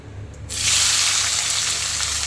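Chopped onions drop into hot oil for a Bengali kochu and fish curry, bursting into a loud, steady sizzle that holds without pause after a brief quiet start.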